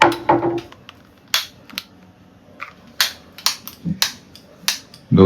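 A lighter that fails to ignite, despite having been refilled with fuel the day before, is clicked over and over, giving sharp snapping clicks in irregular bursts close by, with a brief voice at the start and end.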